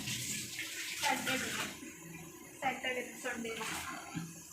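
Water runs steadily from a tap with a soft splashing flow, while people talk intermittently nearby.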